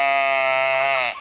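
A single sustained sheep bleat on a farm, loud and close, steady for about a second before breaking off, from a flock eager for grain.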